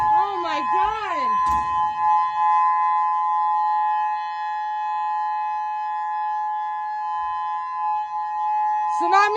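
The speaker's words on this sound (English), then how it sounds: "Tsunami siren." A tsunami warning siren sounds in Hawaii after a magnitude 8.8 Kamchatka earthquake, holding a long steady wail after a brief wavering rise, with a voice talking over the start.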